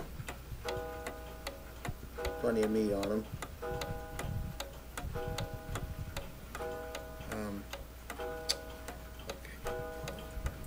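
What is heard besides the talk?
mantel clock ticking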